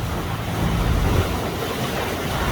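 River water rushes steadily beside a waiting logging truck at a crossing, a continuous low, washy roar close by with no voices over it.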